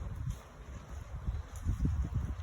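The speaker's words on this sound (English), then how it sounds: "Wind blows it." Gusty wind on a sunny outdoor day buffets the microphone in low, uneven rumbles that swell and fade, louder toward the end, with light rustling mixed in.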